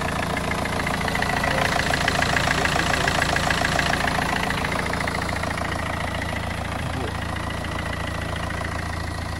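A Citroen C5 HDI diesel engine idles steadily with the engine bay cover largely missing, a continuous close, even rumble with faint ticking that holds level throughout, with no voices over it.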